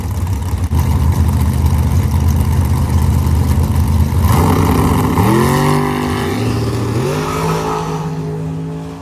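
A drag racing truck engine rumbles loud and close, then revs up in several rising surges before settling, with no talk over it.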